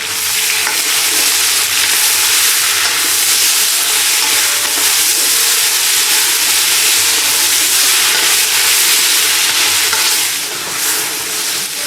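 A large pot of chicken curry fries on high heat, a steady loud sizzle and hiss that runs without a break and with no talking.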